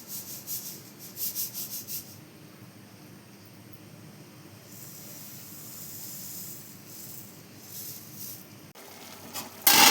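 Washed wheat grains being sifted by hand to remove dust, a continuous soft rustling hiss, near and steady, with a few louder shaking bursts at the start and a sharp knock at the end.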